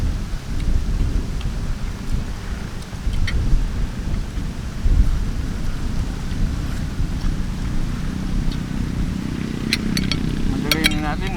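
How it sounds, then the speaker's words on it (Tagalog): Heavy rain pours steadily outdoors, a dense continuous wash with low rumbling underneath and a few sharper taps and clatters near the end, with no clear voices. "Basang-basa sa ulan."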